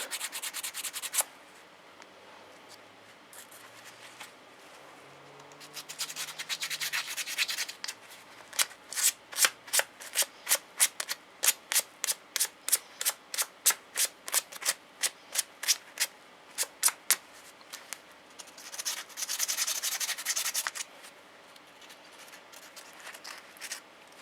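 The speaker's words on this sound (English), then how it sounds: "So I just need to use a bit of sandpaper to clean it" A snowblower spark plug from a Meec Tools KW 60cm machine being cleaned with sandpaper: soft rubbing at first, then a quick run of rhythmic scratchy strokes in the middle, ending in a longer steady scrub, close and fairly quiet.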